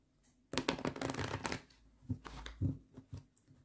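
Close, quiet shuffling of a deck of tarot-style cards, with a rapid riffling burst followed by a few shorter shuffles and taps, and no talk.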